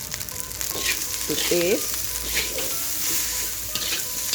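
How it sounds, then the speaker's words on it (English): Dabai fried rice with ground anchovies and a pinch of salt stir-fried in a pan, giving a steady sizzle with scraping stirs throughout and a brief spoken phrase over it. "Make sure that you stir them nicely to make sure that all the salt are evenly distributed into the fried rice."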